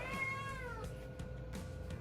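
Cat meowing indoors beside a 1000-litre reef aquarium, one drawn-out nearby meow that falls in pitch, followed by soft shuffling sounds over a low steady hum.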